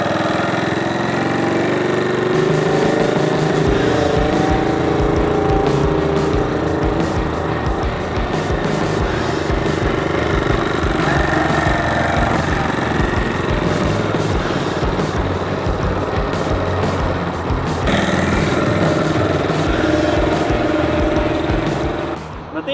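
A moped engine on a test ride runs loud and steady throughout, a continuous buzzing drone with slight shifts in pitch. A voice is faintly heard under it.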